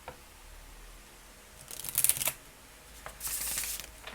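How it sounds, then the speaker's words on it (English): A deck of oracle cards being shuffled by hand: two short riffling bursts of crisp card flutter, close and fairly quiet, separated by a brief pause, with no talking. "Okay, shuffles well."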